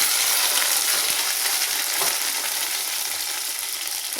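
Chopped ingredients frying in hot castor oil for a thorny brinjal kuzhambu, a steady close crackling sizzle with faint stirring scrapes throughout, no talk.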